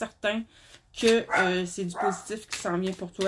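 A dog barks a few times in the background, partly masked by someone speaking French steadily over it.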